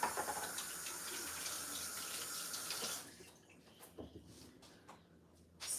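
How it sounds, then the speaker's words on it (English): Water runs from a kitchen tap for handwashing, a steady close splashing rush that cuts off partway through, followed by quieter drips and small clatters. "I need to wash my hands."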